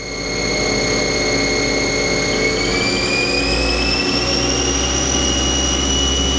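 A Haas ST-10 CNC turning center spindle whines steadily at high speed as it ramps up toward 4,000 RPM, layered tonal whines climbing gradually in pitch over a loud, constant mechanical drone, with no talking.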